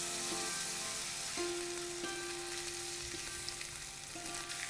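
Carrot and capsicum frying in a little oil for noodle rolls, a soft continuous sizzle with faint steady hiss and occasional light tonal hum from the kitchen, close and even throughout.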